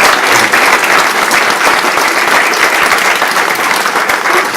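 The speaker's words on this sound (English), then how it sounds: "Big round of applause for him." Dense, loud applause from a crowd at a BTCC touring car event Q&A at Donington, honoring a 12-year-old boy, with steady clapping filling the whole stretch and no speech over it.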